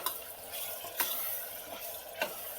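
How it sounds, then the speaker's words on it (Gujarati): Green beans and potato curry sizzling in a pan as water is poured in, a steady soft hiss with a few sharp bursts of spitting and stirring, close and fairly quiet. "હવે મિત્ર આપણે આમાં પાણીનો વઘાર કરીશું"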